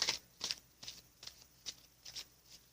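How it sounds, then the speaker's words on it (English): A deck of cards being shuffled, about seven quick riffling bursts at a steady rhythm, close and quiet with no talking. "So I'm going to give it one more shuffle and then cut."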